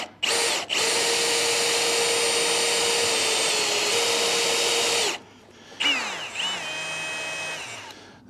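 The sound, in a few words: slightly bent drill running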